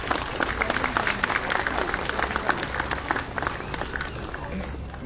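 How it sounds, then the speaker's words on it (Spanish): A crowd applauds steadily at an outdoor homage ceremony for the Santísimas Cruces festival in Chancay, the clapping continuous and moderately distant with a low hum and murmur beneath. "¡Aplausos!"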